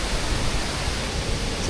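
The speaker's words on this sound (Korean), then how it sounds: "와 진짜 빙구레일라 폭포는 장관이네요." Steady, dense rush of falling water from Bingureyla waterfall in Sri Lanka, a continuous close roar with no voices over the short stretch.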